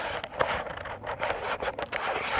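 A deck of oracle cards being shuffled by hand, giving a steady run of close, loud papery riffles and scrapes with a few sharper snaps throughout, no talking.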